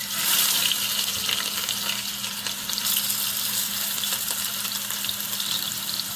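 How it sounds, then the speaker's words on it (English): Fish frying in oil in a pot gives a steady, close crackling sizzle throughout, with no voices. "Add the fish to the pot."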